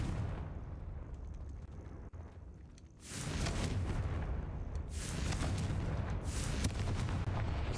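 A Confringo spell explosion in Hogwarts Legacy, played on hard mode: after a few quiet seconds, loud booming bursts erupt close by and keep crashing in repeated waves, like heavy artillery fire.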